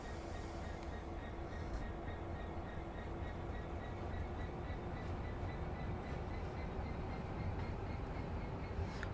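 An empty freight train in a train simulator game accelerates with a steady low rumble and rolling wheel noise that stays even and continuous throughout, with no talking.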